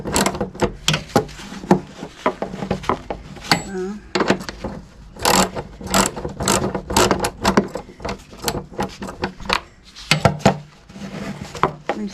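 A 10mm box wrench working a starter bolt on a Yamaha Rhino 660: close, sharp metallic clicks and clanks in irregular bursts, with someone talking between them.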